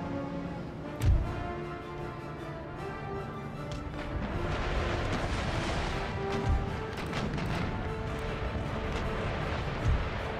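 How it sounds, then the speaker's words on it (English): Naval cannons firing round shot in an Empire: Total War sea battle: a few deep, thudding booms spaced several seconds apart over a dense, rumbling battle din. "Pound these smaller ships with a round shot, heavy privateer, sick crate, so on."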